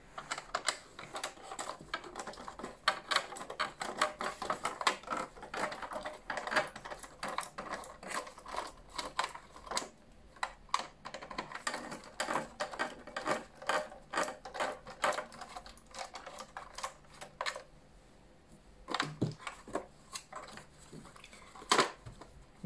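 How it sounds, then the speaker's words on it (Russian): Hidden screws are unscrewed from a Dyson DC37 vacuum cleaner's plastic housing, giving faint, close, irregular ratcheting clicks and small plastic taps in quick clusters with brief pauses. "Теперь нам необходимо открутить те самые потайные винты."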